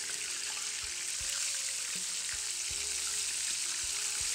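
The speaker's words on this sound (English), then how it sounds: "quail are very small and they fry up pretty quick" Small quail fry steadily in hot oil, a dense, even sizzle that fills the whole stretch, with a few faint clinks and bumps underneath and no voices.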